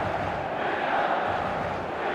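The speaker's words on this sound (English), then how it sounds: "this place is living up to its reputation as one of the noisiest corners of the footballing world" Steady roar of a large stadium crowd in the football video game eFootball PES 2020, a dense continuous wash of cheering and chanting with no pauses.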